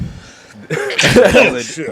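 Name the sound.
sneeze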